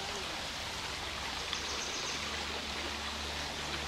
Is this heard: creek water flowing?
yes